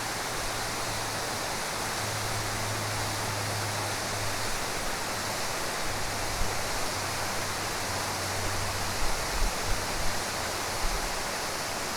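A waterfall in a Norwegian fjord pours as a constant, full-bodied rushing roar heard from its base, steady and loud with no voices, and a faint low hum runs beneath it.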